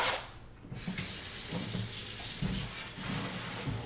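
Rice being rinsed in a sink under a running kitchen tap, a steady close rush of water with soft splashing and no voices.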